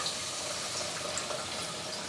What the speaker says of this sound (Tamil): இப்போ நான் இங்கே வந்து தண்ணி வந்து 1/2 கப் தான் சேர்த்துக்கொள்கிறேன்